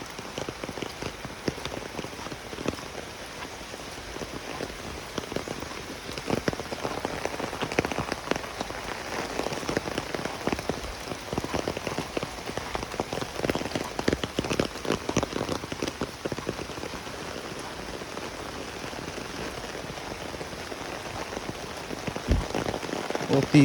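Rain falls steadily on a road where water pools, a dense continuous patter of drops that holds at an even, moderate level throughout.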